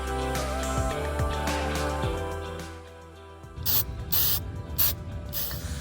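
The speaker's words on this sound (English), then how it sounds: "Now I'm going to go ahead and spray anti-rust kind of spray" Mechanical clicking and ratcheting give way to several short, sharp hissing bursts of anti-rust aerosol spray on the brake lines of a Mercedes-Benz E350 W212, close and fairly loud.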